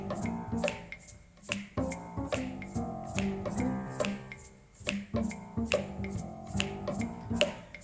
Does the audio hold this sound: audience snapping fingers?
yes